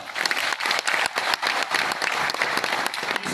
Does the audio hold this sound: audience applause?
yes